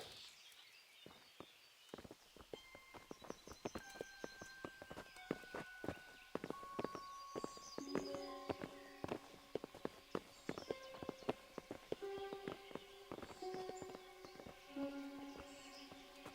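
Horse hooves clip-clop at a steady walking rhythm in the medieval video game Kingdom Come: Deliverance, quiet and mid-distance beneath sustained orchestral music.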